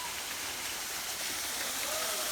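An outdoor waterfall roars as a steady, dense rush of falling water, close and constant for the whole stretch, with no clear voices above it.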